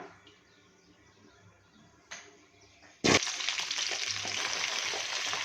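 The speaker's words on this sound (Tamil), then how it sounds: "இப்போ நம்ம கத்திரிக்காய்களை நல்லா வணக்கி எடுத்துக்கலாம்." Eggplant sautéing in a little oil in a pan for a hotel-style oil brinjal curry; a faint quiet stretch gives way to a sudden loud, steady sizzle that continues strongly to the end.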